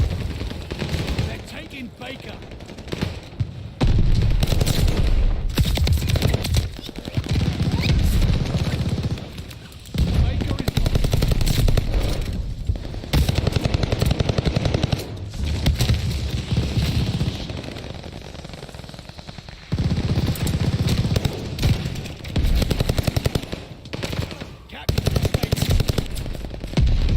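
Welgun submachine gun firing from the hip in a video game, loud rapid automatic bursts repeating through the clip with short pauses between strings of fire, close and dominant over game ambience.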